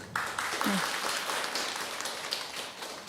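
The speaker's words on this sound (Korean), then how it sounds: "큰 박수 한 번 더 부탁드립니다" A panel audience at a robotics forum in Seoul's COEX claps for a panelist, a faint, steady patter of many hands lasting a few seconds with a voice briefly audible underneath.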